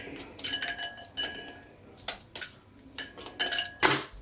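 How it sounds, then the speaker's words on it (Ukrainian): Knife chopping ham into rough pieces on a cutting board in a home kitchen, with irregular clusters of close knocks and clinks, quiet and without talk. "Просто нарізаємо довільно собі ось так на шматочки."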